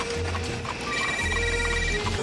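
Hooves of a horse pulling a buggy through New York clip-clop in a steady, moderately close rhythm over low background noise, while faint scattered sounds drift in and no one speaks.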